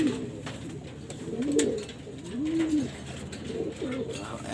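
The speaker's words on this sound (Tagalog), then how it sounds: "Ayan sila mga kalapatids" Pigeons coo softly in a loft, several low rolling calls overlapping at a moderate distance over a faint background hum.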